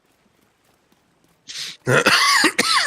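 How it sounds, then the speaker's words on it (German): A short, sharp cough bursts out once, followed by a louder rough cough and throat-clearing sounds, close to the microphone, during a Division 2 game session. "Der Husten da, der macht mir nur blöd"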